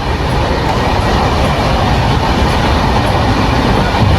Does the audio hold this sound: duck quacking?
no